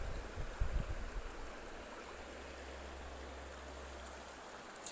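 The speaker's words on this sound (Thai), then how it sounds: "น้ำตก" A natural waterfall and flowing stream give a steady, broadband rush that stays even throughout, with a low rumble underneath and a few brief knocks near the start.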